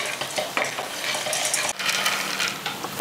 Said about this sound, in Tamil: இதை வந்து லைட்டாக ஒரு பெரட்டு மட்டும் பெரட்டிக்கலாம்.